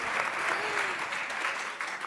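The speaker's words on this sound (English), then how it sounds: "Round of applause for Amanda." Sustained applause from an audience at a live talk event, a dense, steady clatter of many hands, close and loud, easing slightly at the end.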